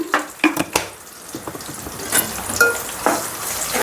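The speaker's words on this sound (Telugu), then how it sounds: "అల్లం పేస్ట్ 1 స్పూన్ వేసాక పచ్చి వాసన పోయేసేపు ఇట్లా కలుపుకోవాలి." A spoonful of ginger paste frying in a pan while being stirred: a soft sizzle broken up by close scraping and clinks of the utensil against the pan.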